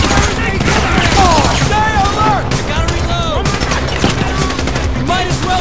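Rapid automatic gunfire rattles continuously during a shootout in Grand Theft Auto V, loud and dense, with shouted voices and whistling tones mixed over the barrage.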